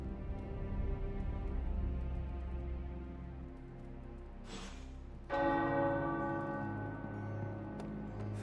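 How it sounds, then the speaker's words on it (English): Church-like tower bells in Marvel's Midnight Suns ring with a rich, sustained resonance, a fresh strike swelling out midway over a soft background hiss. "The tower bells are ringing."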